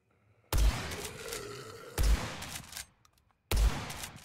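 Shotgun blasts in the first-person shooter video game Blood West, three loud booming shots spaced about one and a half seconds apart, each with a rumbling tail fading before the next.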